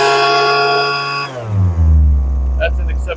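A Lesco leaf blower's small two-stroke engine revs high and steady, then abruptly bogs down into a lower, rougher drone, loud and close, with faint voices near the end.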